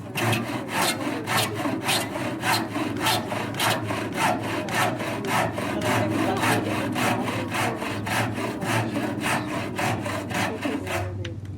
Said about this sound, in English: Just expecting the back saw to finish.